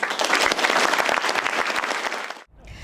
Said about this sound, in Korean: 한미 장병들은 뜨거운 박수로 화답하며